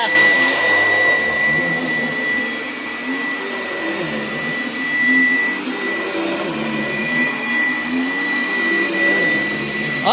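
A Filter Queen Model LD 33 vacuum cleaner runs continuously nearby, a loud steady motor whine with a constant high tone and slight wavering in the airflow, no talk over it.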